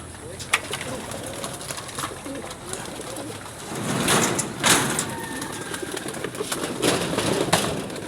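Racing pigeons coo in a large backyard loft, soft repeated calls close by with a few louder bursts and occasional shuffling, while faint voices murmur in the background.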